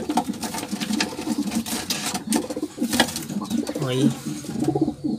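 Pigeons coo repeatedly in a loft, their soft throaty calls layered over a steady mechanical hum, with a brief spoken word partway through.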